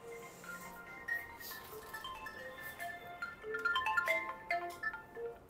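A phone ringtone plays a repeating melodic tone pattern over about five seconds, moderately loud and close, with no talk over it.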